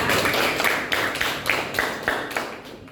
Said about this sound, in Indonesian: Kita kasih tepuk tangan buat Dania ya.